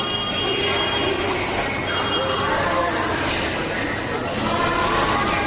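Busy platform at Howrah railway station with trains, a steady wash of rail and station noise carrying faint wheel squeal and metallic screeching, with indistinct voices mixed throughout.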